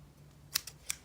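Scissors snip through beading thread with two sharp, close clicks about a third of a second apart, then a fainter tick, against a quiet room hum.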